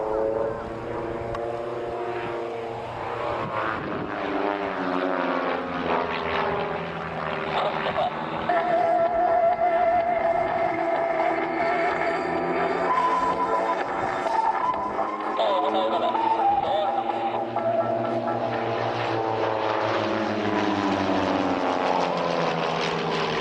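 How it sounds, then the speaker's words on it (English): Two RV-8 home-built propeller aircraft fly an aerobatic formation display at an air fair, engines droning loudly and steadily with rising and falling pitch as they swoop and pass, a commentator's voice faintly under the roar. "With great aerobatic manoeuvres, the order of the day from these two home-built aircraft."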